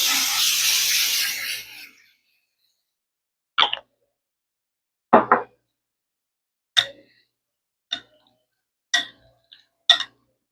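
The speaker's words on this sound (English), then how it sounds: "we're gonna spray this baking sheet so we can put them on the baking sheet" Cooking spray hisses onto a baking sheet in a home kitchen in one steady, close burst of about two seconds, followed by a few soft, separate clicks and taps.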